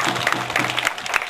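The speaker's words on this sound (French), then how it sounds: "Nous pouvons les applaudir." An audience applauds at a school event in Benin, a short, close burst of hand clapping lasting just over a second.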